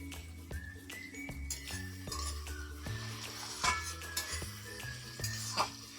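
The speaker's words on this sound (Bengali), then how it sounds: "এবার পেঁয়াজ টমেটো একসাথে ভালোভাবে নেড়ে নেব" Onions and tomatoes are stirred together in a frying pan for a meat curry, with a spatula scraping and clinking against the metal in a steady rhythm over a low sizzle, close and clear.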